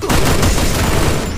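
A loud, close burst of rapid gunfire in a shooter video game, with shots running together into a dense volley that lasts the whole moment.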